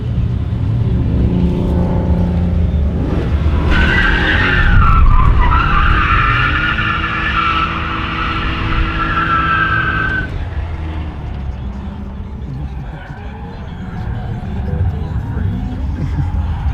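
A BMW E36 with traction control off skids and drifts, loud tire squeal rising over a revving engine for several seconds before easing off, with voices talking underneath.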